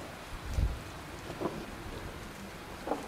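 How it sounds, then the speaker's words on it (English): Steady rain patters as a stage sound effect during a drama performance, a soft continuous hiss with a few low thumps and rumbles, no voices over it. "Good Lord, it's still raining."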